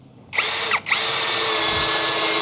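An EMTOP 55 Nm compact cordless drill bores into wood, its motor whining loud and close for about two seconds with a brief dip mid-run as the load changes, no voices present.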